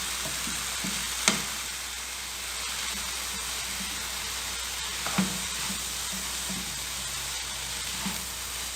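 A pot of cooked tomatoes with seasoning, carrot and okra is stirred over the heat, with a steady sizzle throughout and a few sharp spoon knocks against the pot.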